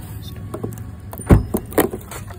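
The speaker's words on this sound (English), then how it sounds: "So let me open the boot." Boot lid of a 2021 Mahindra XUV300 W8 being opened, a few close mechanical clunks and a sharp latch thump over quiet background.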